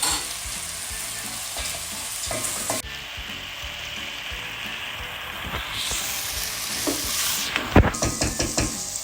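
Frozen green peas are stirred into sizzling masala in a pan, a loud steady fry broken by scraping stirs and sharp utensil knocks against the pan.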